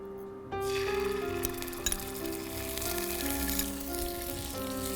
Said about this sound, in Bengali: অল্প একটু তেল নিয়ে নিব জাস্ট স্টার ফ্রাই করার জন্য সাথে দিয়ে দিচ্ছি আদা রসুনের পেস্ট এক চা চামচ পরিমাণ